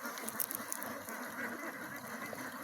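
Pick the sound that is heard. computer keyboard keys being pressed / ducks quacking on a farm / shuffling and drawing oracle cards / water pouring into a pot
ducks quacking on a farm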